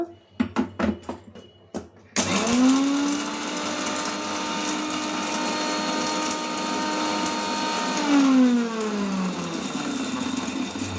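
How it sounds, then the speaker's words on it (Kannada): A mixer grinder coarsely grinds black pepper and cumin for rasam. It starts with a few clicks, then a loud, steady whirring motor runs for about seven seconds before slowing and winding down. "ಇಷ್ಟನ್ನು ರುಬ್ಕೋಬೇಕು ತರಿ ತರಿಯಾಗಿ ರುಬ್ಬಿದ್ರೆ ಸಾಕು"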